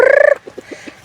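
Backyard chickens, a mix of roosters and hens, give one loud, drawn-out crowing call nearby, then a few soft, short clucks trail off after it.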